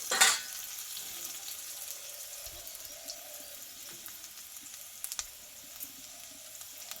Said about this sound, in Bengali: এই রসুনটা একটু ভালো করে আমি ভেজে নেবো